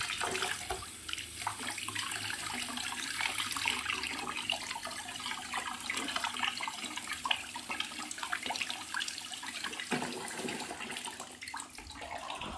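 Running water rinses a water filter cartridge, a loud, continuous splashing gush with dense spattering that keeps going the whole time without pause.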